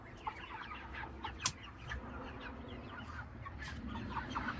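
Meat chickens, plump broiler birds in a farm pen, clucking and chattering softly at a steady low level, with one sharper squawk near the start and scattered calls throughout.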